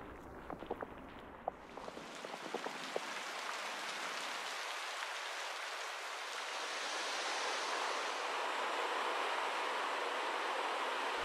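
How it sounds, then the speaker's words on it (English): A cascading waterfall on Yangmingshan pours in a continuous broadband rush that settles in after a few light splashes and holds steady, moderately close and unbroken. "cascading waterfalls help break the torrid heat"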